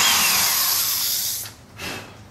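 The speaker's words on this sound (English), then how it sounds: "I'm going to drill into the base of the mold" A power drill bores into the base of a wooden concrete-countertop mold near its edge, a loud steady whine for about a second and a half, then a brief pause and a shorter second burst.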